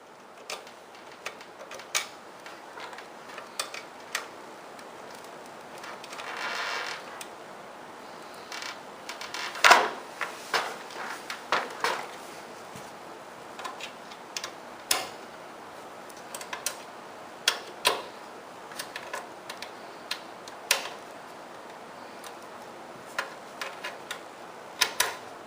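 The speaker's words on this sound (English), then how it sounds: "remove the two corner flathead security screws with the L-shaped Allen" Small flathead security screws being worked out with an L-shaped Allen wrench while removing a projector from a Chief mount produce scattered sharp metallic ticks and clicks, irregularly spaced over a quiet background.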